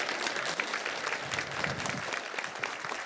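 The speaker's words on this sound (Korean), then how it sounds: "선생님께 다시 한번 큰 박수 부탁드리겠습니다" Steady, dense applause from an audience at an education plan briefing after a teacher's presentation, loud and continuous throughout with no voices over it.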